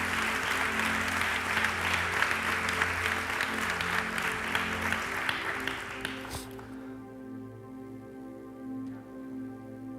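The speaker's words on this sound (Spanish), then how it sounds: "Dale un fuerte aplauso al Señor" A church congregation applauds loudly and steadily for several seconds during a bilingual Spanish-English service, then the clapping cuts off abruptly, leaving a quiet sustained musical tone.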